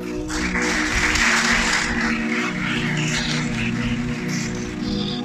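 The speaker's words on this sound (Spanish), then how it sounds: "Dale un aplauso al Creador." A congregation applauds the Creator during a Spanish-language religious sermon, a continuous hiss-like wash of clapping with a low hum beneath, steady and fairly loud throughout.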